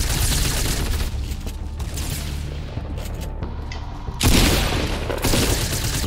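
Gunfire in the video game Fortnite, a steady loud crackle of shots through most of the clip, with a sharper, heavier burst near the end.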